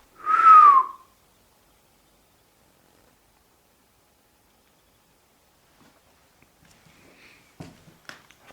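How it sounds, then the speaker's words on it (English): A single clear whistled note, rising then sliding down, sounds close and alone for under a second inside Kielder Castle at night, followed by a long silence and then faint scattered knocks and rustles. "Maybe you could whistle. I'll show you how."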